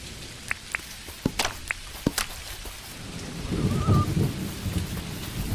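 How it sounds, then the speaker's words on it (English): Rain and thunder in the Dinkum video game: a steady wash of rain with sharp drop-like clicks early on, then a low rolling rumble of thunder building in the second half, with no voices. "there's a little bit of thunder going on as well"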